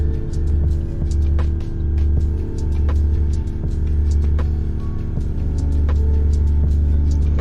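Dual cylinder air suspension compressor running steadily nearby, a continuous loud droning hum with faint clicks and rattles over it, no talking.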